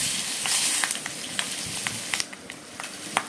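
Chillies, asafoetida and turmeric sizzle steadily in hot oil, a bright continuous frying hiss close by, dotted with sharp little pops and spits throughout.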